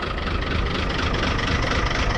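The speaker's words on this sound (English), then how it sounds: "Sitting and idling there like a tractor. Listen to that. Barely running, just a couple hundred RPM." A 1975 Chevy Stepside diesel engine idles very low at a couple hundred RPM, a loud, steady, rough rumble like a tractor heard close up with no talk.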